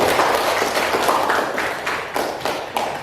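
A school class claps together in quick, evenly spaced bursts, loud and close, with no talking over it.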